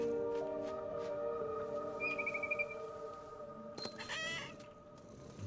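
A cat meows once in the video game What Remains of Edith Finch, a short close call over a layered bed of steady ambient music and game tones.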